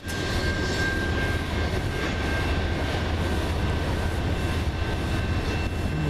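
A CN freight sand train rumbles steadily past at Ladysmith, a continuous loud roll of wheels and wagons with a faint high whine, no pauses.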